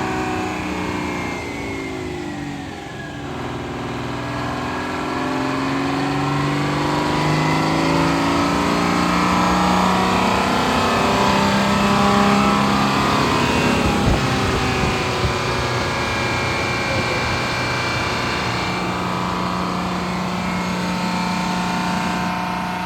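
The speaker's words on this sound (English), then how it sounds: "It's our straight pipe generator, baby." Straight-pipe generator with no muffler running at full RPM, a loud, close, continuous engine drone with steady harmonics that shift slightly in pitch over time, with no talk.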